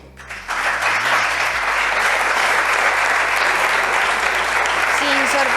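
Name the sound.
applause from parliament deputies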